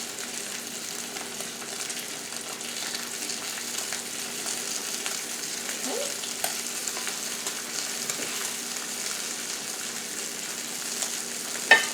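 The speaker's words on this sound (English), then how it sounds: "break this into smaller pieces, chop it up with my spatula, and let this cook" Store-bought or homemade sausage frying in a pan for a keto sausage and bacon muffin, broken into small pieces with a spatula, giving a steady, moderate sizzle with faint scraping and a sharp clink near the end.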